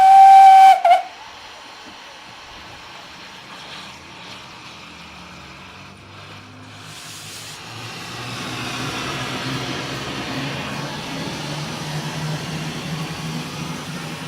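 A Sentinel steam locomotive gives a short shrill whistle, then after a hissing lull a low, tram-like rumble builds and holds as it draws past.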